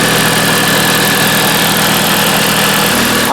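A car engine idles steadily with a low, even rumble and faint vibration, running smoothly and close by with no other sounds.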